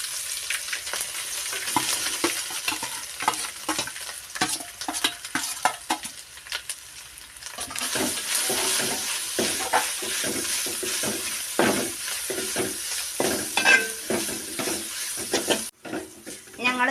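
Stone-ground jackfruit curry mixture (chakka erissery) tipped into a hot pan over frying grated coconut, sizzling and hissing loudly with bursts of spoon stirring and scraping close by.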